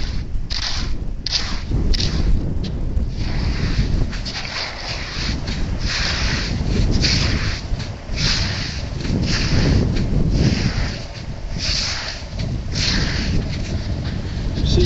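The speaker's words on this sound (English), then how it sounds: "now what I'm going to do is use my walking stick I found as a digging stick" Walking stick used as a digging stick, scraping and jabbing into wet sand in a dry river bed, making a steady run of gritty scrapes and thuds, close and loud, continuing without pause.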